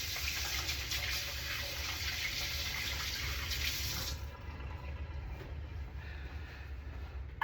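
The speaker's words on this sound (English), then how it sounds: "Let me rinse off the stickiness from my hands real quick." A kitchen tap runs as sticky hands are rinsed under it, a close, steady hiss of water for about four seconds, then the flow stops and only faint dripping and handling noises remain.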